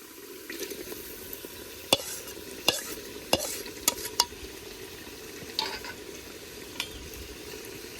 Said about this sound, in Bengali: এখন দিয়ে দিমু ভেজে রাখা ডিম আর আলু।